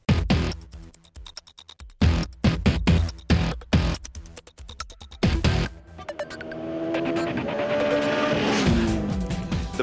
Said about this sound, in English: it does have quite the singing voice, and the inline 4 is loud and all pervasive